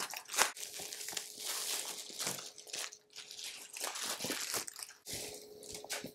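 Protective plastic film is peeled off a new MacBook Pro M1 laptop, producing close, loud crinkling and crackling in uneven bursts, with no talking.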